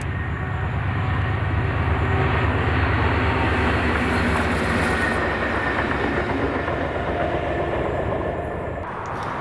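A heavy freight train hauled by two diesel locomotives, one at each end, rumbles past at close range in Scotland, a steady loud roar of engines and wagons with faint rhythmic clatter, fading slightly at the end.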